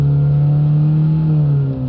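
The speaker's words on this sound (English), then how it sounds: "But we can see that when we hold the revs up" A Ford Transit Connect 1.5 engine held at raised revs, a loud steady drone with a strong constant hum and layered harmonics, sustained alone with a slight dip at the end.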